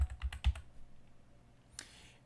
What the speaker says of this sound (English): I'm just typing with my keyboard.